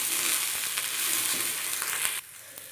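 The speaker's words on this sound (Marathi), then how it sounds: "आता ही चिरलेली भेंडी आपल्याला यात भाजून घ्यायची आहे." Chopped okra roasting in oil in a pan over a medium flame gives a steady sizzle with occasional stirring scrapes, then drops suddenly quieter near the end.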